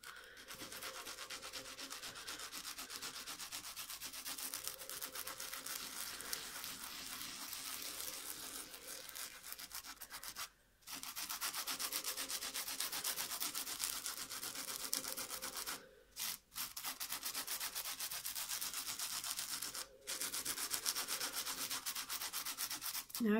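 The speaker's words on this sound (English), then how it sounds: "take the yellow chalk and I'll take the camera and Dave starts rubbing" Chalk rubbed into about three teaspoons of salt in a jar gives a steady, close gritty scraping that runs almost without a break, pausing only briefly a few times.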